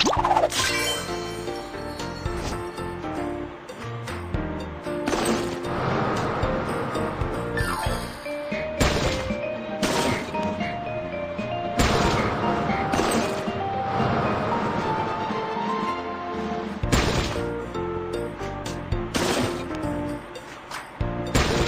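Cartoon truck bucket dumping broken stone pieces: repeated shattering, crashing clatters of rubble spaced through a busy mechanical background, with no talk.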